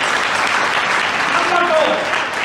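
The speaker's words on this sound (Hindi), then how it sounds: "एक बार जोरदार ताली।" An audience at a business motivational seminar in Noida gives a loud, steady round of clapping that continues throughout, with a voice heard over it.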